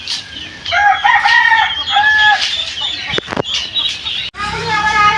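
Chickens on a village homestead cluck and a rooster crows in repeated bursts, fairly close, with a short knock midway and steady outdoor background.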